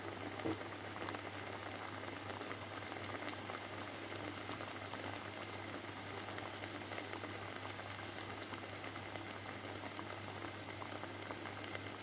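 Raw banana vadas frying in hot oil in a pan on the stove, a steady close sizzling and bubbling hiss that stays even and continuous throughout.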